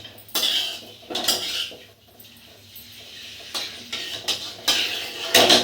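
Peeled boiled eggs being turned in a pan of oil, with loud metal utensil clinks and scrapes in bursts over a faint background.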